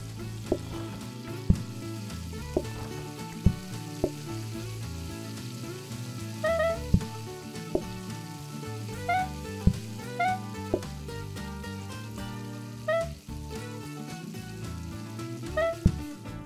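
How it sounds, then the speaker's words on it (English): Meat frying on a grill in the cooking game PlateUp, a steady sizzle layered with quick clicks, pops and chimes of game effects, with no talking. "Let's get some fucking meat cooking."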